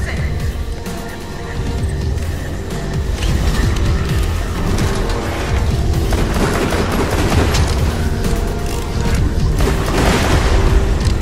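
Grenade explosion in the video game Borderlands 2, a loud booming blast amid dense gunfire and rumbling chaos, with voices talking over the din.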